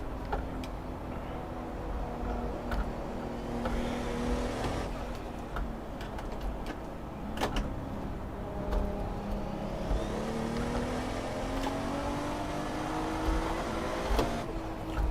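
The engine of a 500 hp Lexus GS300 in Assetto Corsa revs on a track day, its pitch climbing and falling in long sweeps as it accelerates, steady and fairly loud with no talk.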